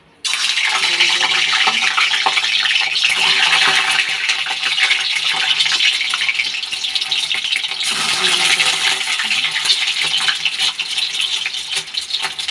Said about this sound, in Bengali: এখন ডিমটা ভেজে নেব। তেল দিয়েছি কড়ার মধ্যে